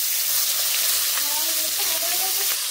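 Climbing perch fish frying in hot mustard oil in a pan, a close, steady, loud sizzle and hiss that carries on without a break.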